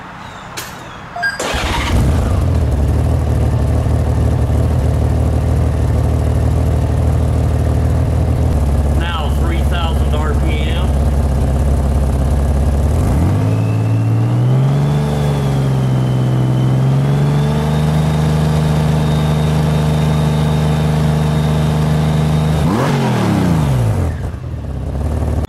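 A Honda Goldwing GL1800 motorcycle idles steadily with all exhaust plugs in, a loud, even engine drone that holds for about twenty seconds, with a brief rise in pitch partway through and a faint voice in the background.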